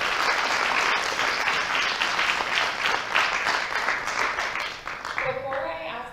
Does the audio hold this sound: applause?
yes